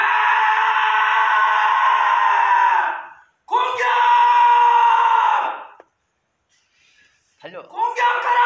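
A group yells a loud, sustained battle cry while charging, two long roaring bursts of massed voices close by, a brief silence, then scattered shouts.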